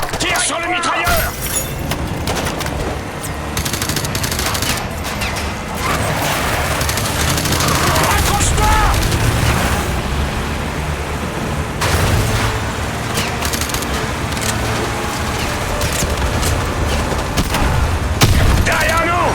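Dense Call of Duty battle noise, with loud, continuous gunfire, machine-gun bursts and booming explosions that carry on throughout while voices shout over the combat.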